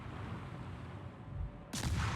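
Deck guns of the submarine L-20 fire in a naval video game: a low rumbling hum runs steadily, then one loud, sharp blast bursts out near the end and rings on briefly.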